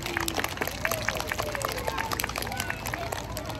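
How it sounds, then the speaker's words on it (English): Applause for November integrity award winners at a school assembly, a dense, steady patter of clapping from a gathered crowd of children and adults, with scattered voices mixed in throughout. "Can we have a round of applause for our integrity winners of November?"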